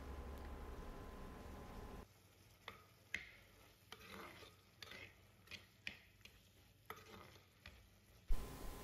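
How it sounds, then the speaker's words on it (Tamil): Chicken masala is mashed and stirred in a cooking pan over a soft sizzle, with scraping strokes and sharp clicks at irregular intervals. No one speaks. "இந்த மாதிரி சிக்கனை மேஷ் பண்ணி விட்டுக்கோங்க"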